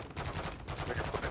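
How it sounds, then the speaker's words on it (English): Rapid video-game gunfire rattles out in a dense burst, a steady string of close, loud shots with no talking over it. "Shoot the gun."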